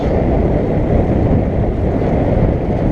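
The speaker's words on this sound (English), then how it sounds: "The waves." A sailboat crashes through ocean waves in a loud, continuous rush of water and low roar, with wind buffeting the microphone throughout.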